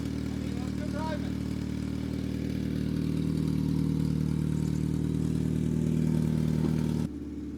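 The engine of a gear car drones at a steady mid-pitched throttle as it is driven, a constant close rumble with light clatter that holds for several seconds before dropping off abruptly at the end.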